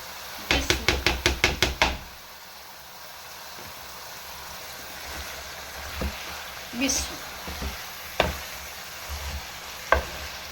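Cauliflower and peas drop into a pan of frying potatoes with a quick burst of knocks and clatter, followed by a steady faint sizzle and occasional scrapes and taps of stirring.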